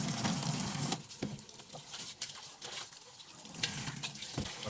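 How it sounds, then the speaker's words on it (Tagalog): Dyed fabric is rinsed under running tap water, with soft splashing, patter and trickling that rise and fall faintly throughout, and no voices. "Ano, yung natural na tubig, or tap water."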